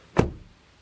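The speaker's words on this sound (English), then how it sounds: "Then the door closing sound." A 2023 Honda Civic e:HEV hybrid car door swings shut with a single solid, close thud, followed by a brief fading resonance and no talking.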